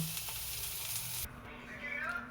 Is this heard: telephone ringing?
no